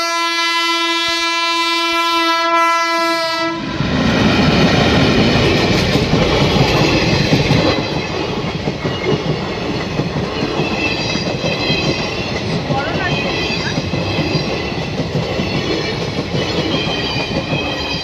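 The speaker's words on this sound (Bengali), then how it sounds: "ট্রেন ট্রেন ট্রেন আসছে মালগাড়ি।" A loud horn blast opens, then a freight train passes close by, its wagons rumbling and clattering continuously with wheel noise for the rest of the time.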